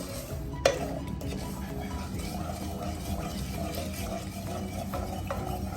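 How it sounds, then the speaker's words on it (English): Halwa with sugar cooks in melted ghee over medium heat, giving a steady low bubbling and stirring noise throughout, with one sharp utensil clink near the start. "Now everything is melted, and now we may bring it down to medium heat and let it cook."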